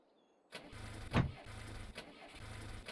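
A car engine in Farming Simulator 22 cranks and catches after a short quiet pause, settling into a low, steady idle with a brief louder surge, close and without talk.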